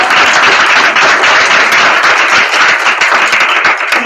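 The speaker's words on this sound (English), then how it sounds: "I think it deserves a round of applause." A conference audience at a government social media summit breaks into a sustained round of applause, dense steady clapping that fills the room from start to finish with no voices.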